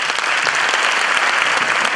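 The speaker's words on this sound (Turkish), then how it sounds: "Lütfen onlar için de bir alkış alabilirsek" A university hall audience at a Düzce University career club event applauds the club's active members, producing a loud, dense, continuous wash of clapping throughout.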